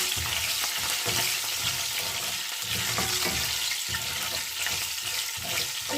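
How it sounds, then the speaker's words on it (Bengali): Cinnamon and bay leaves fry in hot oil with a continuous crackling sizzle, mixed with stirring scrapes and a few soft low knocks throughout. "এগুলো 30 সেকেন্ড আমি তেলের মাঝে ভাজিয়ে নিয়ে"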